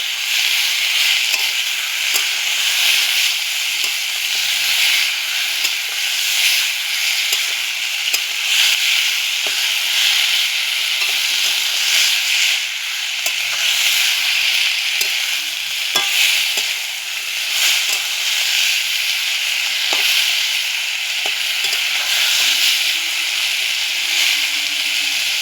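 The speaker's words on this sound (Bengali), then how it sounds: "এবার দিয়ে দেবো কুচানো টমেটোটা। এবার এটা দিয়ে ভালো মতো কষিয়ে নেব।" Chopped tomato frying in oil with ginger-garlic paste while being stirred, giving a steady close sizzle with occasional scraping clicks of the spoon, with no one talking.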